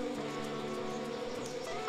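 Bees buzzing in the PS2 game Dog's Life, a steady insect drone with a hum that holds level throughout without a break.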